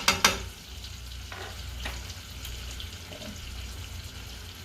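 Shrimp with rosemary fry in a pan, a continuous close sizzle with a couple of clanks and stirring scrapes near the start.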